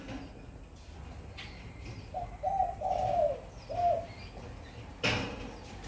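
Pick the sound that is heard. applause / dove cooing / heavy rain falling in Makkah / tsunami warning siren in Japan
dove cooing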